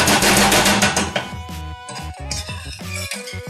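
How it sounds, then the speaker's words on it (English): A whisk clatters quickly against a pan while cream cheese is beaten into a sauce, with dense metallic scraping at first, then looser clinks and taps, close and fairly loud with no talk. "it says to add it 1 tablespoon at a time and whisk it in slowly"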